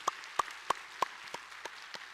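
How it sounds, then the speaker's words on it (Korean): Clapping rings out at a Sunday church service, heard as a slow, evenly spaced run of about seven distinct claps that fade gradually, each sharp and clear against a quiet room. "우리 한번 그들을 격려하며 큰 박수로 한번 축복했으면 좋겠습니다."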